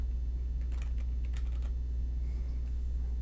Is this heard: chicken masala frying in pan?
no